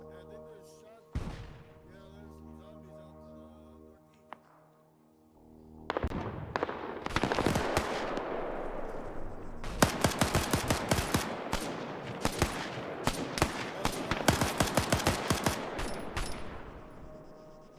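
Video-game gunfire from a four-man patrol firefight: after a quieter stretch with a few isolated bangs, dense bursts of rapid automatic shots and sharp cracks erupt, growing heavier and more continuous toward the end.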